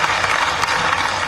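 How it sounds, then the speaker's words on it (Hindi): Audience applause for Atal Bihari Vajpayee at a scholarship distribution ceremony in Bhopal, a dense, steady wash of many hands clapping at once, loud and sustained throughout with no voices. "भारत रत्न अटल बिहारी वाजपेयी जी के लिए जोरदार ताली बजाओ"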